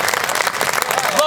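Brief, lively applause ripples through the audience at a Bhakkar Literary Society Urdu mushaira for poet Sarwar Khan Sarwar, with voices talking over the clapping.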